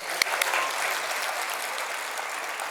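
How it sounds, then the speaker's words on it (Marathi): An audience claps steadily for the chief guest at a college annual function, a dense, sustained applause that stays even throughout with no speech over it. "आदरणीय महेशजींसाठी एकदा जोरदार टाळ्या होऊन जाऊ द्यात"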